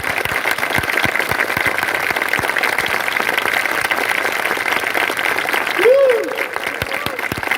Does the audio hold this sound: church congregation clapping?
yes